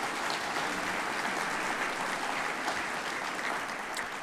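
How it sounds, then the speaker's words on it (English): Steady, fairly soft applause fills a large hall at a State of the City address, an even wash of many hands clapping at a moderate distance throughout. "So let's give Jennifer and Kim a round of applause for all they're doing."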